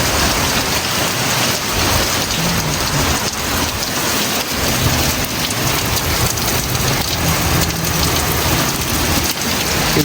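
Heavy rain pours steadily in a strong storm, with a dense, continuous hiss of drops drumming on surfaces and a low thunder rumble underneath, loud and close throughout.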